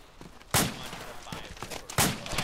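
Sharp bursts of distant video game gunfire crack out in a couple of loud volleys, with scattered shots in between against a steady low rumble.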